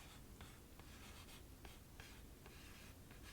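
A medium-point felt tip pen traces across paper in soft, close scratchy strokes that repeat in a steady rhythm, quiet and alone.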